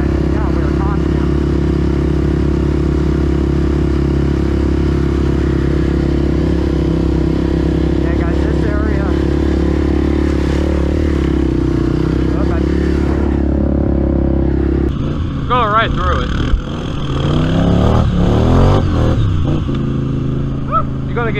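Engines of ATVs idle and rumble loudly on a Halloween costume trail ride, steady at first, then turning rougher with revving and clatter near the end. Voices talk under the engine noise.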